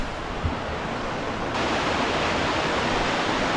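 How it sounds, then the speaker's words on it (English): A small waterfall rushes over rocks in the Lake District fells near Pike of Stickle, a steady, dense roar of water that grows slightly louder partway through, with no voices. "We've got a little bit of a waterfall here"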